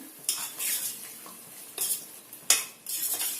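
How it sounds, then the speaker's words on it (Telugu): Chicken curry is stirred in a pan with a metal ladle. Several distinct scraping strokes and clinks against the pan stand over a faint sizzle, close and fairly loud, with no speech. "దీన్ని ఒకసారి ఇలా కలుపుకోండి"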